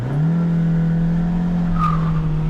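Renault Twingo cars starting a race, a loud steady engine drone held at a constant pitch throughout, close by, with a faint higher tone rising briefly near the end.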